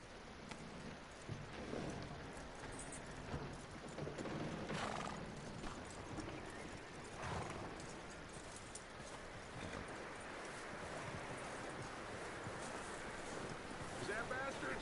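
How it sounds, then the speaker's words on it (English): Horse hooves clip-clop steadily on the ground in the video game Red Dead Redemption 2, with a brief whinny and a low outdoor ambience, partly under voices. "That looks like a decent horse."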